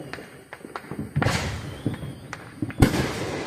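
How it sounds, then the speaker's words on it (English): Fireworks burst outdoors with scattered sharp cracks and thuds at irregular intervals, two louder booms standing out above a steady background rumble. "Okay, so I showed you some fireworks."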